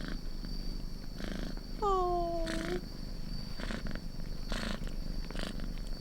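A fluffy white stray cat in a video game purrs steadily, with one clear, drawn-out meow partway through; a voice briefly exclaims nearby.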